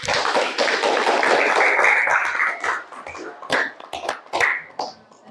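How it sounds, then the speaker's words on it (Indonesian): Classroom applause for a student group, a dense burst of many hands clapping that builds, then thins into a few scattered claps and taps before fading out. "Beri aplaus untuk kelompok 4"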